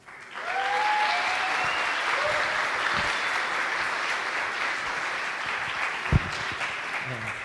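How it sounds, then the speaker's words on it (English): Sustained audience applause at an ICPC programming contest opening ceremony, a large crowd clapping steadily from a quick start to the end, with a single louder thump partway through. "Another round of applause."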